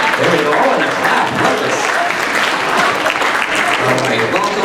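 Clapping from the audience at a middle school spring band concert, a loud, continuous spread of many hands in a hall, with voices faintly under it.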